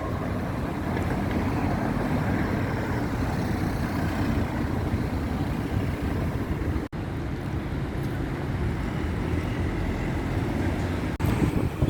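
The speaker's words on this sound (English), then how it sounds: "It's windy here, so you probably can't hear me." Strong wind buffets a microphone outdoors on a Bristol street, a loud continuous low rumble with one brief dropout and gusty surges.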